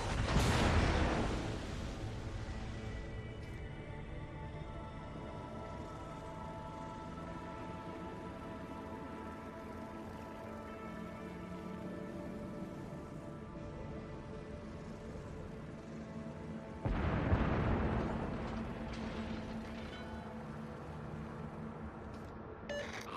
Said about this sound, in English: Stations requesting fire on the designated target.